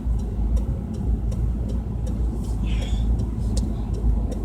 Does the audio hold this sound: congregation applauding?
no